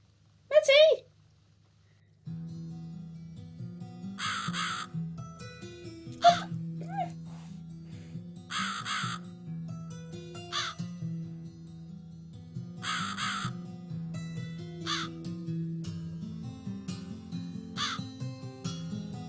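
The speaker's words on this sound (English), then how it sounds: "Fucking bird. Bird again." A crow in The Cat Lady video game gives several loud, harsh caws at irregular intervals. They sound over a low droning game soundtrack, with a brief human gasp near the start.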